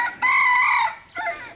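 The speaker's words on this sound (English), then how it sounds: "that's Bob the rooster" A rooster named Bob crows once, loud and close, a strained drawn-out call followed by a shorter trailing note, with no talk over it.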